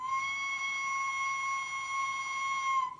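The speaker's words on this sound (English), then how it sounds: "Screech whistle." A sustained, steady shrill whistle from a Hornby A1 Tornado DCC sound-fitted model steam locomotive, its screech-style tone held loud and close for about three seconds and ending abruptly, with no talk over it.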